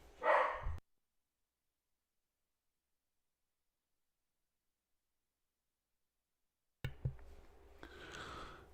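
A dog barks excitedly in another room indoors: a short loud burst at the start, a long silence, then more muffled, restless dog noise near the end.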